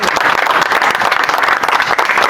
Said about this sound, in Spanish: Así que le damos un aplauso a Dios.